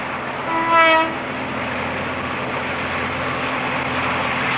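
A New Zealand Railways freight log train on a branch line rumbles steadily, opening with a long, loud multi-tone horn blast before the heavy wagons keep rolling past under a continuous roar.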